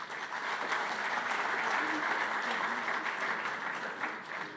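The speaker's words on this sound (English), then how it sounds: "Give her a round of applause." An audience at a talk on international law claps steadily and fairly loudly throughout, a dense even wash of applause with no pauses.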